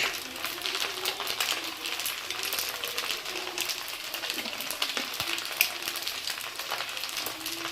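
Chow mein noodles frying in a pan with soy sauce give a steady, close, dense sizzle, broken by a few faint clinks of a utensil.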